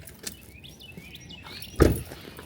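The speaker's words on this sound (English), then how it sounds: "The birds are singing." Birds chirp and tweet in short, scattered calls outdoors, fairly faint against a quiet background, with one louder bump of noise partway through.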